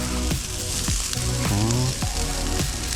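Asparagus sizzles in vegan butter on a hot griddle with a loud, steady frying hiss, broken by a few brief scrapes and clinks of a utensil.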